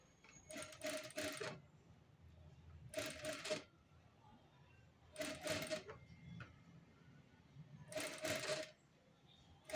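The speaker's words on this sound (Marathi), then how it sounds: "अशी शिस्तीत शिस्तीत तुम्ही टीप मारून घ्या 1/2 इंच अंतर ठेवून" A sewing machine stitches a cover for a small bowl with a half-inch margin, running in four distinct bursts of rapid mechanical whirring separated by short pauses, close and fairly loud.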